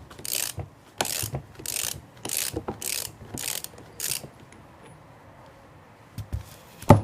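Pipe wrench braced and levered to break loose the drive shaft yoke nut during an NP249 transfer case rebuild, giving about seven sharp, evenly spaced ratcheting bursts, close and fairly loud, followed by a quiet pause and a final clunk.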